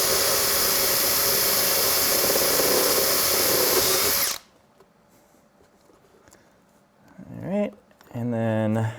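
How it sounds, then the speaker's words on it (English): A power drill whines loudly and continuously as it bores through wood on a tabletop, then cuts off, leaving quiet before brief voices. "I'm just going to kind of hold this and we'll drill through the wood."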